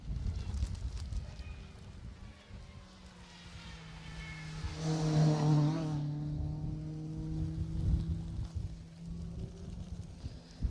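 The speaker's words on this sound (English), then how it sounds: "You can hear the next car coming now." A rally car at the 2018 Jersey Rally approaches from the distance, engine swelling louder as it passes and then fading, with a droning tone.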